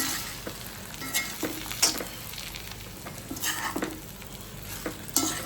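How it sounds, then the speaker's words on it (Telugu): Brinjal pieces fry in a pan with a steady close sizzle, broken by repeated scraping and stirring strokes at irregular intervals, no voices. "వంకాయల ఫ్రై"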